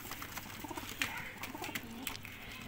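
Soft cooing and light fluttering of flying pigeons at a distance, faint and intermittent against quiet outdoor background.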